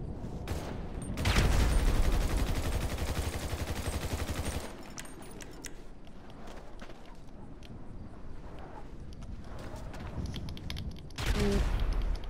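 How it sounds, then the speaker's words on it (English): Grenade launcher fire in a snowy video game battle, a dense continuous barrage of booming shots and explosions, loud and close, easing in the middle and surging again at the end. "Grenade launcher."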